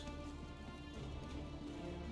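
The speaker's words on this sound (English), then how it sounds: "I hope you like the rain, 47." Steady rain in the stealth game Hitman 3, a dense, even hiss of drops falling on surfaces that holds constant and fairly quiet throughout with no voices.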